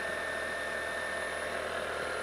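A 2018 Kia Optima's 2-liter four-cylinder engine idles steadily with a slightly rattly, noisy hum, close and continuous with no talk.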